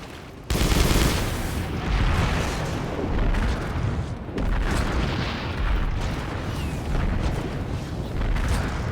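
Dense gunfire in the Planetside 2 game during a base fight, loud overlapping bursts and booms forming a continuous barrage after a short quieter start.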